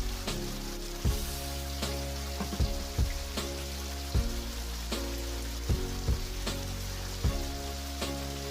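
Heavy rain falls steadily on surfaces outdoors, a dense continuous hiss with scattered louder drops and splats throughout, with no talking.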